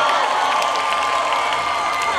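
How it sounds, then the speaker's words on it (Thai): A crowd at a live music show claps and cheers with whoops and shouts, a dense, loud, steady roar of applause filling the room. "ปรบมือฮะ"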